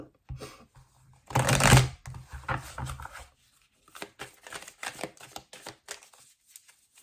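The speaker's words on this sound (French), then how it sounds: "on va faire un tirage en 9 cartes" Tarot cards being shuffled and drawn for a nine-card spread, a loud riffling burst near the start followed by a series of quick soft flicks and slaps as cards are laid out, close and clear without speech.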